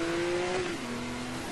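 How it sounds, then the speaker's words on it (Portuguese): A car's nitro boost kicks in during a Need for Speed Most Wanted (2012) race on Xbox 360, a loud, steady engine roar with a sustained tone that drops in pitch partway through, heard without talk. "Começou um nitro."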